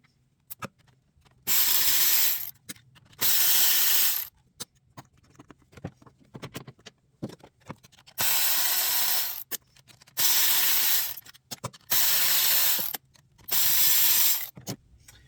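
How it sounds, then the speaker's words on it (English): Ratchet wrench with an 8mm socket working cover bolts loose on a Massimo MSU 500 side-by-side, five bursts of rapid close clicking separated by short pauses. "we're going to need 8mm sockets to be able to pull off all these bolts and get the cover off"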